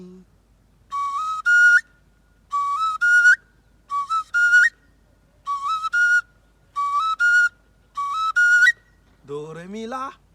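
A wooden oja flute plays do re mi as a clear, piercing three-note rising phrase, repeated six times with short pauses between, before a voice begins at the end.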